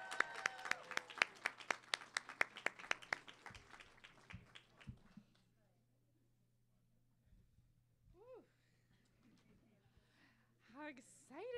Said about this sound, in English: Please give these outstanding scholars one more big round of applause for all of their work.